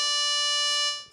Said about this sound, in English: So if the sordina is off and we play a clarinet sound,